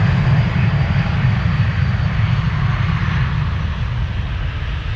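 British Airways airliner departing Amsterdam Schiphol for London Heathrow, a steady, close jet engine roar with a heavy low rumble, holding fairly even and easing slightly toward the end.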